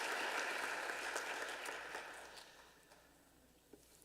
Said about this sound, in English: One more round of applause for all of our artists,